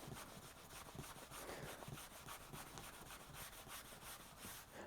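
Fine abrasive polishing paste worked by hand into the plastic case of a BBC Micro computer, giving a steady, quiet, rapid rubbing scrub with even back-and-forth strokes and no voices.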